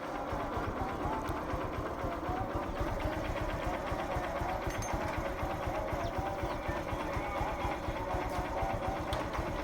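A motorbike engine runs steadily in a village setting, a close, continuous rapid chugging hum with no pauses and no voices.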